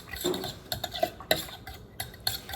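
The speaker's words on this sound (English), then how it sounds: "It usually doesn't take too long, so just stirring that up." A spoon stirs banana pudding mixture in a pot, giving a series of light scraping and clinking knocks against the metal, fairly close and moderately quiet, with irregular bursts and no talking.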